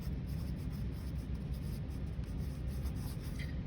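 A pen scratches on paper close by, a continuous soft scratching of writing with a faint steady background hiss.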